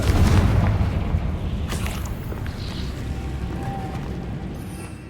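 Confringo fire spell from the video game Hogwarts Legacy: a heavy booming blast opens loud, then a rumbling roar slowly fades, with faint game effects in the background.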